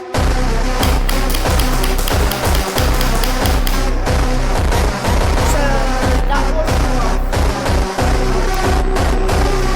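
Rapid bursts of automatic sniper rifle fire during a shooting test, loud and close, with sharp repeated shots and heavy thumps running throughout.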